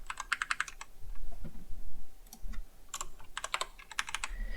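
Fingers type on a computer keyboard in quick, irregular bursts of sharp clicks and taps, separated by brief pauses, close and alone with no talking.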